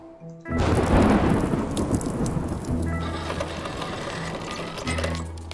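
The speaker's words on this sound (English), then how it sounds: "it also created lightning over there" Thunder from lightning in the video game Draw a Stickman: Epic 3 breaks in suddenly as a loud rumbling crash, then rolls on and slowly fades under a rain-like hiss and low musical tones, with no speech.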